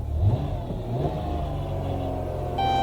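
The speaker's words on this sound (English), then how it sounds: "the engine is running" A Dodge Grand Caravan engine runs at idle, a steady close low hum with a slight rise in revs near the start, no one speaking.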